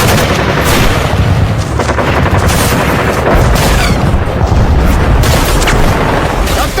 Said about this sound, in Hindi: कैप्टन, राइट के बंकर से भारी मात्रा से फायरिंग हो रही है।